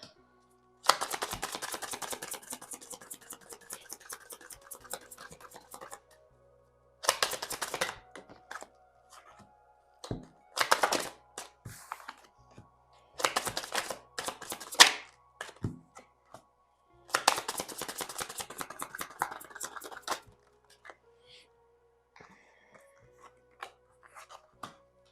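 Tarot cards are shuffled and drawn in bursts of crisp riffling and snapping, separated by short pauses and light taps, close and fairly quiet.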